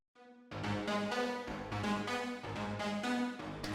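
Bright synth lead run through vintage reverb with a slightly distorted edge, playing a rhythmic pattern of repeated notes after a soft intro tone, reverb tails filling the gaps; no voices.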